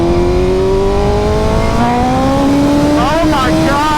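A 2025 BMW S1000RR motorcycle fitted with an aftermarket exhaust and tune revs loudly up close with a steady rising engine tone, then a quick series of burbling downshift blips near the end.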